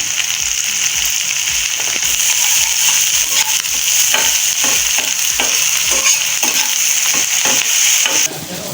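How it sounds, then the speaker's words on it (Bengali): Onions sizzle loudly in a pan with a pinch of salt, a dense close frying hiss with regular scraping stir strokes roughly every half second, easing slightly at the very end. "পেঁয়াজ ভাজা হয়ে গেছে লাল লাল করে"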